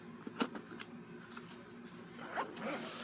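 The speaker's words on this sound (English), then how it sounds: "It zips up." A zipper being pulled shut on a buttpack, several short rasping strokes close to the mic, quiet and separated by brief pauses, with faint background noise.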